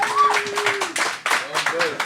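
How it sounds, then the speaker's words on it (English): A small live podcast audience claps for a guest, a few scattered, uneven claps close by, with voices talking over and between them. "Guys, can I give him a round of applause for being with us?"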